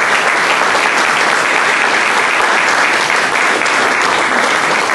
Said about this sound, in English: Let's give a big round of applause for Levi and Nathan.